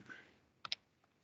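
Two quick mouse clicks, close and faint, as report visuals are selected in Power BI, followed by a softer third click.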